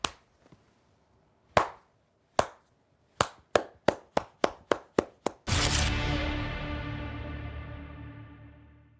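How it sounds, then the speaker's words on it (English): A slow clap: single loud hand claps ring out alone with echo, spaced widely at first and then quickening into a steady beat before bursting into sustained applause that gradually fades. "Slow clap."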